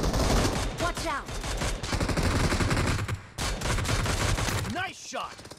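Rapid bursts of automatic gunfire from a shooting video game, loud, dense volleys broken by a short pause and a few single shots, with a voice talking faintly underneath.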